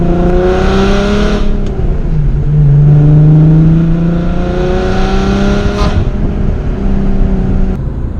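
A BMW M3 being driven, the engine loud and close with rising and falling tones as it revs through gears, a clean continuous drone.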